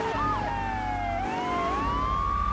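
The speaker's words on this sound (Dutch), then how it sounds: "Die oude sirenes." Old-style police car sirens from the video game GTA 3 wail continuously, several rising and falling tones overlapping over low engine and street rumble, loud and steady.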